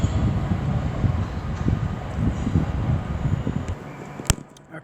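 A pair of Class 350 electric trains arriving at London Euston on the West Coast Main Line, giving a low rumbling roar with wind buffeting on the microphone, fading toward the end after a sharp metallic clunk.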